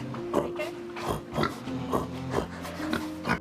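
Pigs on a pig farm give a run of short, rough grunts and snorts in a loose rhythm, close and fairly loud, with some tonal squeals between them.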